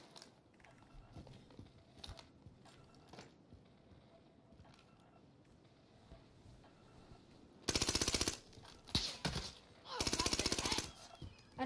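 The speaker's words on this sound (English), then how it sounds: "We getting sniped from this building." Gunfire crackles during a Call of Duty: Warzone match, with faint scattered shots and movement noises early on, then two loud, dense bursts of rapid fire near the end, alongside occasional voices.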